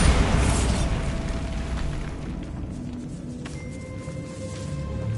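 A Bombarda spell explosion in Hogwarts Legacy, a loud booming blast at the start that trails into a rumbling, crackling decay with faint mechanical clatter and lingering tones.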